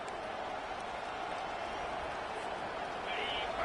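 Stadium crowd at a Georgia versus South Carolina college football game, a steady distant roar of cheering that swells slightly near the end.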